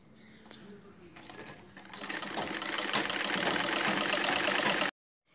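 A sewing machine stitches a blouse sleeve. After a few faint clicks it speeds up into a fast, steady mechanical whirr that runs for about three seconds, then stops abruptly.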